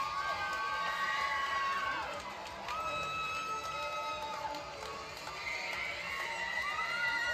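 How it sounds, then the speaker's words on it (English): Arena crowd at a women's MMA bout roaring and shouting as the fight ends in a choke finish, with loud sustained cheering and high-pitched whoops and yells that swell in waves. "The crowd has gone absolutely crazy."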